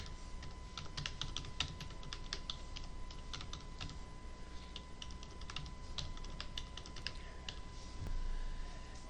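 Someone types a short comment on a computer keyboard: a quick, uneven run of close, light key clicks over a faint steady hum, with no talking.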